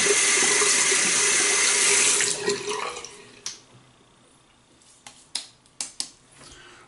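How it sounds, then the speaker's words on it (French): Hands rinsed under a running bathroom tap during a traditional wet shave, a loud steady rush of water that stops after about two seconds, followed by a few sharp drips and splashes in the basin. "Une seconde, je vais me rincer les mains."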